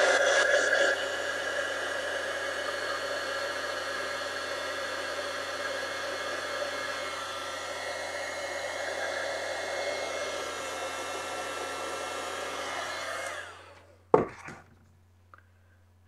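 A hair dryer blows on ink-covered card swatches, a steady loud whooshing hum running for about thirteen seconds before cutting off, followed by a sharp click and a few faint handling knocks.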